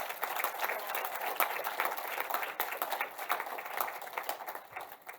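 Audience clapping at a women's entrepreneurship event, steady scattered applause from a crowd running through the whole stretch at moderate distance, without speech.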